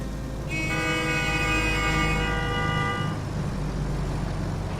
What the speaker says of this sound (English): Stop fucking honking your horn at me.